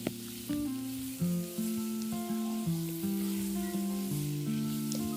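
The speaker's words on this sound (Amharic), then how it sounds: "በመጀመሪያ የጋለ መጥበሻዬ ላይ የተቀቀለውን ድንች አደረኩኝ።" Boiled potatoes fry on a hot pan with a soft, steady sizzle under louder background music.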